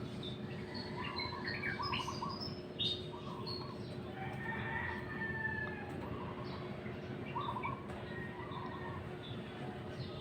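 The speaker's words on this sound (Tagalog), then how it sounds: "Pagising mo pa lang, naririnig mo na yung mga huni ng ibon." Songbirds chirp and call repeatedly at a distance in the morning countryside around a rural house, with a rooster-like call and steady low background hum, brief scattered tweets overlapping throughout.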